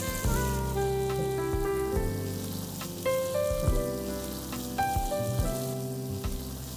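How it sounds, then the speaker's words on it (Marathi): Grated fresh turmeric sautéing in a pan with cumin, a steady close sizzle and fry with intermittent scraping stirs and pan knocks, no talk. "हे छान परतून घ्यायचे आपल्याला हळद शिजेपर्यंत"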